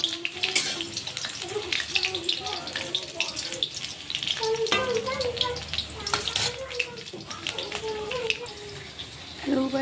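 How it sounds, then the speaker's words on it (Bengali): Potato pieces sizzle steadily in a pan while being lightly browned for a meat dish, with continuous crackling and a voice speaking over the frying. "আলু ভাজা হয়ে গেছে"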